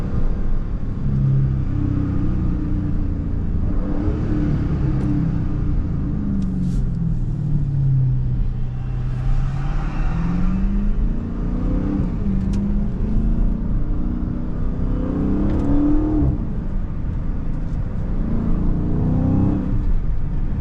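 A Dodge Charger Scat Pack 392 with a manual transmission: a steady engine drone with a high whine that rises and falls as the car speeds up and eases off, continuous and close throughout.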